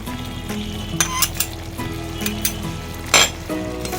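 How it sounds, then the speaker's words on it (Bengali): Fried prawns tipped into a sizzling Bengali banana flower curry and stirred in a pan, giving a steady close fry hiss broken by several scraping stirs and a sharp clink near the end, with no talk. "এবার আমি দিয়ে দেব ভেজে রাখা চিংড়ি মাছগুলো।"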